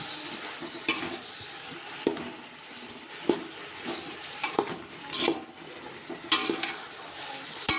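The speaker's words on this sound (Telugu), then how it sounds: "కలిపేసుకుంటున్నాను. నేను పసుపు వేసుకున్నాను." Turmeric is stirred into food in a pan, giving a steady sizzle with repeated scraping and clinking of a utensil against the pan, close and busy throughout, no talk.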